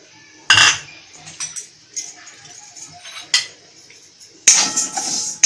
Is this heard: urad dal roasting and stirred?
yes